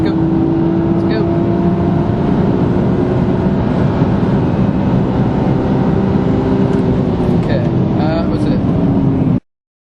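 Turbocharged car pulling at full throttle toward 60 mph, a steady loud engine drone with a rising whine heard from inside the cabin, continuous for about nine seconds before cutting off abruptly.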